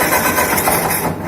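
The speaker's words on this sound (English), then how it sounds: "Now we're going to crank the tractor" A tractor with a points-and-condenser ignition system cranks over, producing a steady, loud mechanical churn with no talking.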